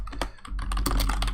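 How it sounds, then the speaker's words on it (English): Rapid typing on a computer keyboard while taking notes, a close run of crisp, uneven key clicks and taps with a brief pause partway through, with no voices. "Sorry about the typing, lots of typing"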